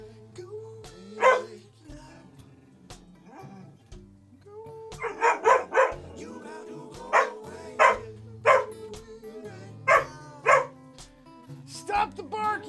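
A dog barks repeatedly indoors, a series of sharp, loud barks spaced about a second apart with a few whimpers mixed in, over a quiet background of low hum.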